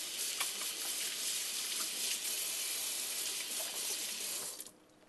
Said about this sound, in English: I'm just going to wash my hands really quick here.